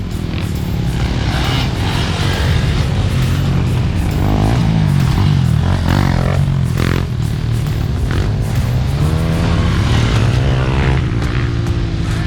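Dirt bikes on an off-road enduro track at BigRock Dirt Park drone and rev continuously, a loud, steady engine roar with rising and falling pitch as riders throttle nearby.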